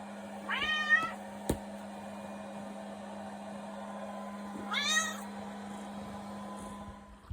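Two distinct meows from a cat on a dock, one early and one about four seconds later, over a steady low hum in a quiet setting.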